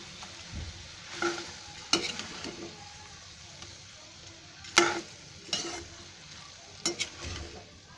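Cabbage Manchurian fritters go into a pan of sauce on low heat and get stirred, with a soft sizzle beneath scattered sharp clinks and scrapes of a spoon against the pan, close and intermittent.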